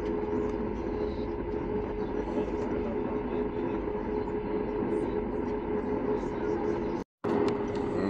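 Airplane taxiing out toward the runway, heard from inside the cabin as a constant, moderately loud engine drone with a steady tone that cuts out for a moment near the end.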